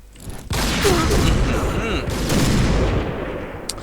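Sniper rifle gunfire in the online shooter Point Blank: a sharp blast about half a second in, followed by a loud, sustained burst of shooting and explosive rumble that runs for several seconds before fading.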